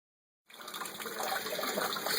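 Water pours from the outlet tube of a homebrew wort chiller while cooling a five gallon peach cobbler ale, starting abruptly after a short silence and continuing as a steady close splashing stream.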